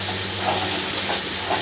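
Water hisses and steams steadily in a hot pan with nigella seeds, green chilies, turmeric and salt, a continuous close broadband sizzle with slight swells.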